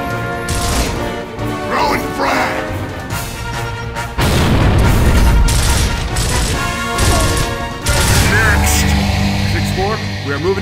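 Loud explosive booms from a frag grenade in the Gears of War PC game, bursting over a dense music-and-effects bed with several heavy impacts.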